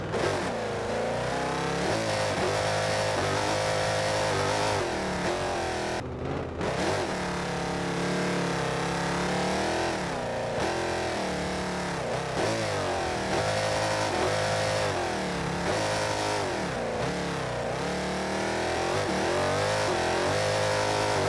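A drag car engine in the BeamNG Drive video game roars loudly and continuously, revving up and down in repeated surges with a brief cutout early on, no voices over it.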